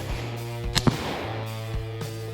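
A 5.56 rifle fires an M855A1 round outdoors, giving a sharp crack and a quick follow-up report over a steady, droning hum.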